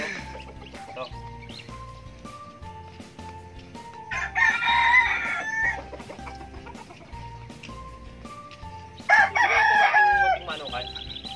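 Plymouth White hens cluck and a rooster crows twice on a free-range chicken farm, loud and close, with steady background clucking and a low rhythmic hum between the crows.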